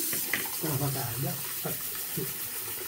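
Hot water streams from a tap over an Omega 48 shaving brush, a steady close splashing gush throughout.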